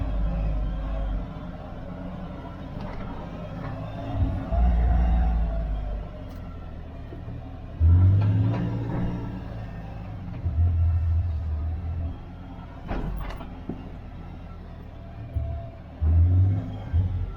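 A 2022 Kawasaki Mule Pro FX LE utility vehicle heading downhill on a trail: a low engine rumble with repeated heavy thumps and jolts as it rolls over rough ground, close and fairly loud.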